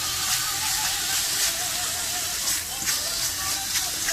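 Ground meat and onions for lasagna bolognese sizzle and fry steadily in a hot pan, a continuous bright crackling hiss that holds evenly throughout.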